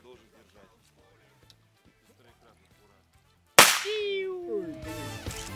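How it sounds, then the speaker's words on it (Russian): Outdoors in Karelia, after a few seconds of quiet rustling and talk, a sharp loud bang bursts out, followed by a whistling, crackling firework trail and further crackles. "Сейчас мы в честь такого подарка будем запускать салют."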